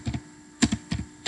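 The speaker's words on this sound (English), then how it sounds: "now I'm gonna go back to the terminal and type in npm" Quick, light clicks of a computer keyboard as a short terminal command is typed, a few paired keystrokes spaced out over about a second, quiet and close.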